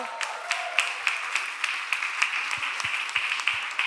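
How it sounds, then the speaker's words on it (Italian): Congregation at an evangelical church service in Verona applauding, light scattered clapping with distinct individual claps in a loose rhythm, fairly close and moderate in volume. "Un bel applauso"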